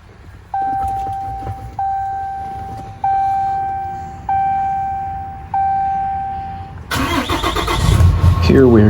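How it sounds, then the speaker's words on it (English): Caterpillar-engined truck starting up: five sharp, evenly spaced tonal beeps, then the engine cranks and catches into a loud, rough running rumble, close by. "Here we're going to start the truck up just to get it to warm up the oil"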